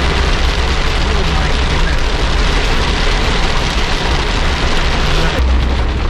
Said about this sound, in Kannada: ಮಳೆ ಸ್ಟಾರ್ಟ್ ಆಗಿದೆ ಏನು ಮಳೆ ಹೊಡಿತಾ ಇದೆ